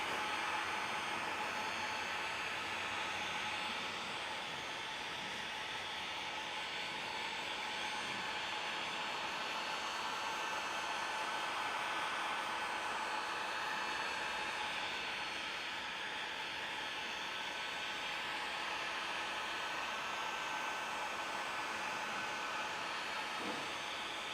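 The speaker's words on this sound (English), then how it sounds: "This is just a faster heat gun." Heat gun blowing hot air while window tint is fitted on a Ram, a steady unbroken rushing hiss that holds at an even level throughout with no talk.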